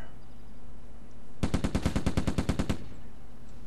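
In the Silent Storm video game, a loud, fast burst of about a dozen evenly spaced automatic gunshots rings out over quiet ambience.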